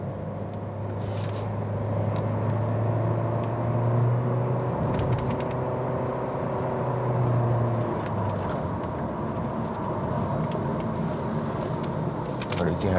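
A 2022 Honda Civic 1.5 Oriel drives on an open road, its engine and tyres making a steady low rumble with shifting engine tones as it is pushed harder, heard from inside the cabin.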